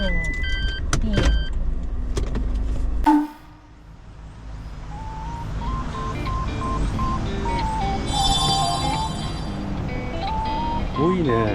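Cars idling and creeping around a crowded expressway service-area parking lot near Kumamoto, a steady close engine and road rumble that dips briefly partway through, with occasional chimes and muffled voices over it.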